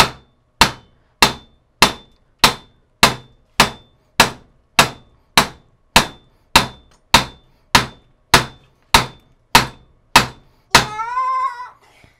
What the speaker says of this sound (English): I have a brass hammer, which is nice for stuff like this because it won't mar the steel.